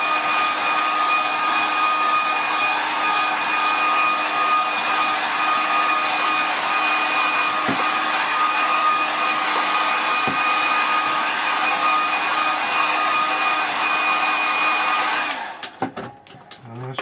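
A hair dryer blows steadily on a wet watercolour landscape painting, a loud, even whir that lasts about fifteen seconds before it clicks off, leaving a few light handling knocks.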